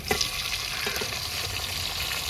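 Tomato dropped into onion and ginger frying in a pan, a quiet close sizzle with a brief soft thump at the start and faint stirring scrapes.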